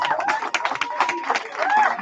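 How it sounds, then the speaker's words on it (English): Audience clapping and excited crowd noise at a lecture event, rapid uneven claps mixed with shouts and chatter from a lively room, moderately loud throughout. "Give yourself a round of applause."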